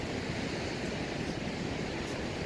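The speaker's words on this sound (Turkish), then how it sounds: "Niagara şelaleleri." Niagara Falls pours with a steady, broadband roar of rushing water. It sounds even and continuous at moderate distance, with no voices.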